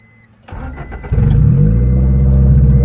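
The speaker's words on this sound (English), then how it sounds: "we're going to take this car around the block real quick, get it started" A 1993 Honda Civic with a turbo conversion cranks over and fires up, then settles into a loud, steady idle with a low rumble, heard close and with no talking.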